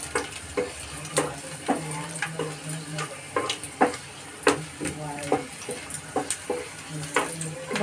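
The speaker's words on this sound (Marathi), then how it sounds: "त्याच्यामध्ये मी लसूण टाकते फोडणीला" Garlic sizzles in hot oil, tempering for a Maharashtrian lasooni methi dish. The frying is quiet and steady, with a crackle broken by irregular taps and clinks of a spoon stirring in the pan.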